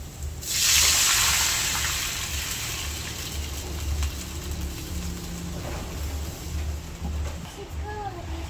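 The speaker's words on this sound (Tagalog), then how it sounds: "Sasabay ko na po yung tubig para po hindi magtilapsikan." Water gushes into a cooking pan holding sardines in one strong pour that tapers off, followed by quieter bubbling and simmering, with a person speaking over it.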